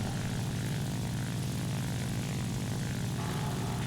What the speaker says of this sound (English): We got a lot of planes incoming